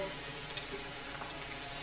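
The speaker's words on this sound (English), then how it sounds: "I'm frying eggs at the moment." Steady crackling sizzle of eggs frying in a hot pan, a dense hiss with small pops, continuous and fairly close.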